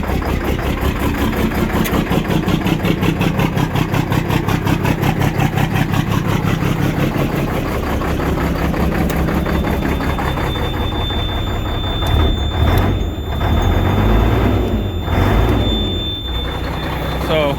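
An old Mack Vision truck with a 460 engine idles steadily and close, a dense low rumble with regular pulsing, while someone talks over it throughout.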